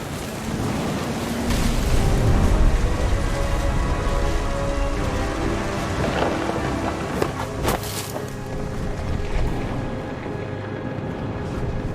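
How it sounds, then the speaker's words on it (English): Thunderstorm with rain in the video game What Remains of Edith Finch, a steady loud wash of rain with low rumbling swells and a few sharp crackling bursts, continuous throughout with no voices. "The thunder sounded much too close and full of angry power."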